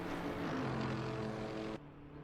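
Propeller-plane-like engine drone inside an endurance racing game at Sebring, a steady harmonic hum that drops sharply in level near the end.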